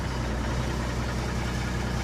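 A Mack R-611T truck with a 6-250 diesel engine idles after a cold start, a steady low rumble with an even throb running unbroken throughout, close and fairly loud with no talk.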